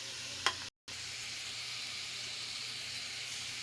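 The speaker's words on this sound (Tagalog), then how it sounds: "halo-halo natin maigi ang ginisang ampalaya" Sautéed bitter gourd (ampalaya) sizzling in a pan while being stirred, a steady, fairly quiet frying hiss with one brief click and a short dropout near the start.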